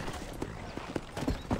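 Horse hooves clip-clop in a quick, uneven trot in a video game, several sharp hollow knocks over a soft background.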